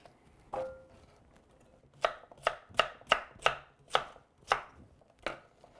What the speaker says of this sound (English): We're just gonna chop these vegetables, simple.